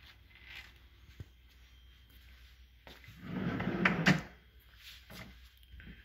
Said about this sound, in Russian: Ящик и дверки с доводчиком. Толкнули, закрывается потихонечку сами.